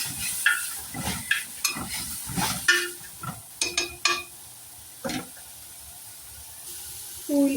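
Onions and chicken are stirred in a cooking pot with Maggi seasoning: repeated scraping, clattering strokes over a soft sizzle, irregular and close, ending in a brief louder hiss.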